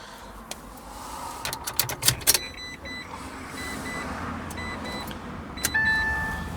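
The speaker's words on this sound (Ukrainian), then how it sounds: "Так, заведемо її." A 2017 Citroen C-Zero electric car powering up: a few sharp relay clicks and taps, then a steady electronic chime tone rises and holds, close by in a quiet cabin.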